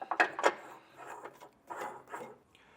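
Ratchet clicking as a nut is tightened on a Blue Ox base plate being fitted to a 2022 Jeep Grand Cherokee WL, a few short close bursts of clicks separated by brief pauses.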